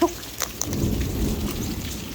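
Thunder rumbles low and heavy through steady rain during a summer storm, opening with a sharp crack and rolling on for a couple of seconds with no talk.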